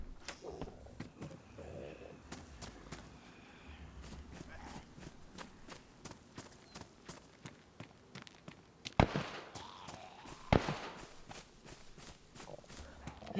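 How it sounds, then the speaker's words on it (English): Sharp distant pops and cracks of gunfire in the video game DayZ recur amid footsteps and rustling, with a couple of louder shots standing out near the end. "Those gunshots are getting closer."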